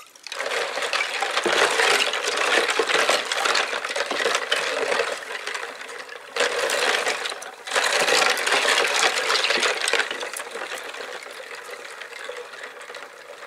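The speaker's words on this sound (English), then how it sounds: "I clean the keys of any surface dirt and grime with some warm water and a squirt of fairy liquid." Amiga 500 plastic keyboard keycaps swished and clattered in warm water with a squirt of washing-up liquid, a dense, continuous close-up rattle and splash with brief pauses.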